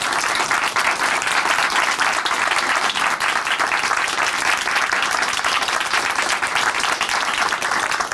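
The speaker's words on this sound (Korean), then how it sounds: "우리 김도순 자매님께 다시 한번 큰 박수 보내드릴게요" A studio audience at a Christian broadcast program gives Kim Do-sun of Chuncheon Hanmaum Church loud, sustained applause, a dense wash of clapping with no pauses.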